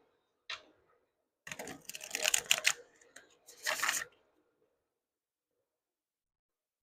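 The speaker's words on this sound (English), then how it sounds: "Let's do a shuffle." Tarot cards being shuffled by hand, heard as a brief riffle, then two longer crisp bursts of fluttering card noise close up, separated by quiet pauses.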